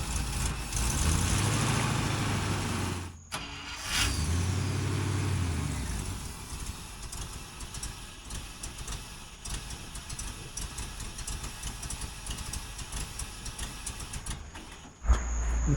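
The engine of a 1964 International Harvester Travelall C1100 runs at a steady idle, a low continuous rumble with a short dip partway through and a brief bump near the end, with no talking.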